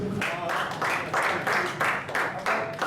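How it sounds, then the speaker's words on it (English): Audience applause at a community policing event, steady rhythmic clapping in bursts from a crowd, moderately loud and close, with a voice faintly underneath. "Commissioner Ham, another round of applause."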